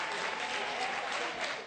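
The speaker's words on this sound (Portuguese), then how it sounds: "foi recebida com palmas na saída do hospital" Applause for a nurse leaving a hospital in Madrid, a continuous patter of many hands clapping outdoors at moderate distance, fairly soft and fading slightly at the end.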